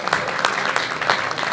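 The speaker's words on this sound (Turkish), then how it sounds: "alkışlarınıza saygı ediyorum" Applause from the audience at a short-story competition award ceremony, a steady dense patter of clapping hands filling the whole moment.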